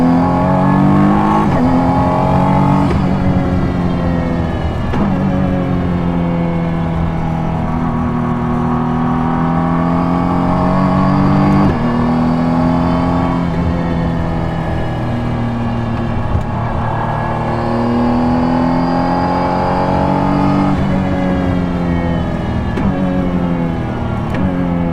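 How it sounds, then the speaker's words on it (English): A Praga Bohema hypercar accelerating hard on a track, a loud sustained engine roar rising and falling in pitch through repeated gear changes, heard continuously from close by. "Me driving the Praga Bohema"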